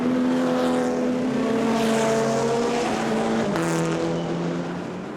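A Seat race car's engine roars loudly from onboard during a Supercar Challenge race at the Zolder circuit, holding a high, sustained drone, then shifting and dropping in pitch before easing slightly toward the end.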